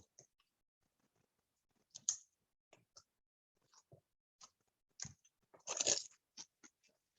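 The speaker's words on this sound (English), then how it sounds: "And then we're just going to mix that one up together and get that seasoning spread out on our shrimp." Raw shrimp being mixed by hand with seasoning and avocado oil, giving soft, scattered wet clicks and squelches in short bursts, with one louder squishy rustle near the end and no talking.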